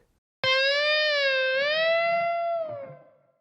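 One sustained electric guitar note bends up smoothly from a whole tone to two tones and holds, with a slight waver, then dies away; no talking over it.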